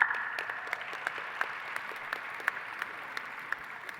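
Applause at Columbia University College of Dental Medicine's 2023 postdoctoral graduation ceremony: steady, dense clapping from a large audience, with individual sharper claps popping out over the continuous wash of sound.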